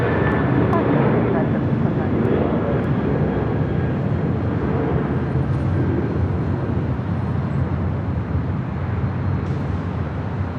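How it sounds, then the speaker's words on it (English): A United Airlines Boeing 737-900ER departing LAX at night in east-flow operations, a steady loud jet roar with deep rumble, while a voice talks over it. "That was United Airlines flight 1729 heading to Denver on the 737-900 ER."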